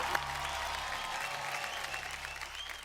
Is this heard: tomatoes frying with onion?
no